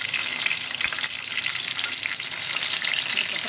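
Garlic, cumin, fennel, curry leaves and cut dried red chillies frying in hot oil for tomato rice, a steady close dense sizzle and crackle with no talk.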